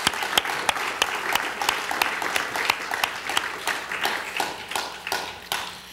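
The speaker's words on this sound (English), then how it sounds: "How about a round of applause for Steve?" Audience applause at the 2006 CREST Awards ceremony: dense, steady clapping from a crowd fills the room with sharp, overlapping claps throughout, close and fairly loud, with no speech.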